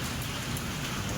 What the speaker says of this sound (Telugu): వర్షం అయితే మాత్రం చితక బాధేస్తుంది. చాలా దారుణంగా పడుతుంది.